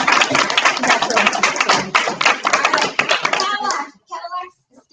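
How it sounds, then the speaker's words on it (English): An audience at a women's area business meeting claps together, a lively burst of hand claps lasting about four seconds, with voices mixed in, then tapering off to a few scattered sounds. "So give yourselves a round of applause."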